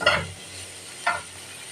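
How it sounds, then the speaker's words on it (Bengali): Chicken pieces briefly fried in a pan for a steamed chicken dish, giving two short bursts of stirring and sizzling about a second apart over a soft, steady background. "এগুলাকে আমি একটুখানি ভাজা ভাজা করলাম"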